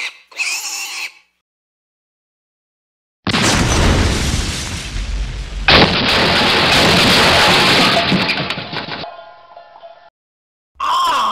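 A loud bomb explosion effect erupts as a broad roaring blast that swells, sustains for several seconds, then fades, bracketed by short bursts of other sound before and after.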